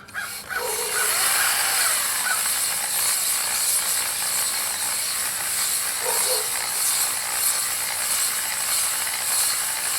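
Honing a cylinder on a McCormick Deering M tractor engine gives a steady, close, broadband scraping and grinding rasp that runs the whole time with little change and no talk.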